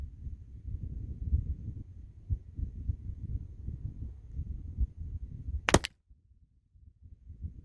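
A single sharp, loud gunshot from an 1847 Walker revolver firing at hard drives outdoors, a sudden crack standing out against a low rumbling wind-like background.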